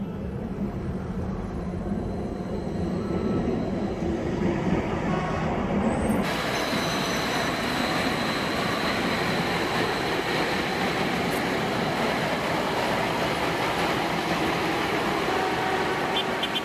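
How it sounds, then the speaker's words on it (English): Ethiopian light rail train running, a steady continuous rumble and rolling noise of the railcar that holds throughout, with a brief shift in tone partway through and no clear talk. "have you guys seen the light rail that they just launched in Ethiopia?"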